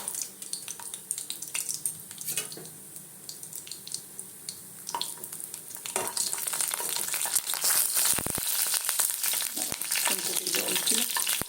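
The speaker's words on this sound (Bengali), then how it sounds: "বড়িগুলোকে আগে ভেজে নেব" Lentil dumplings (bori) frying in hot oil, with a steady close sizzle that swells louder toward the end, broken by faint clinks and stirring.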